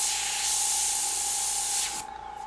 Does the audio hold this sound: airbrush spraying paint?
yes